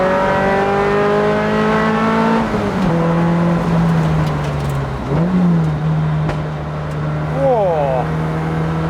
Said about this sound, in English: It does little backfires. This thing is so rowdy now.